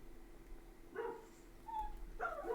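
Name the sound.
dog barking outside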